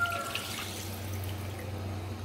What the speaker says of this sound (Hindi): ये इसमें मैं और पानी ऐड कर रही हूँ